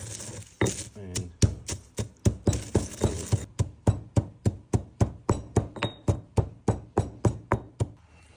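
Eggshells for garden use are crushed on a bench with a steady run of about two dozen close, evenly spaced knocking thuds and crunches.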